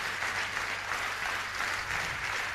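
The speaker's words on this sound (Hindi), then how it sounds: "एक जोरदार ताली जिन्होंने नहीं बोला उनके लिए होनी चाहिए" Audience applause at a business training seminar, a dense, steady clapping from a crowd sustained throughout.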